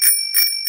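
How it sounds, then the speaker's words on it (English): Three bright, ringing dings of a cartoon bicycle bell in quick succession, loud and clear with no voices over them. "I would ring my bell!"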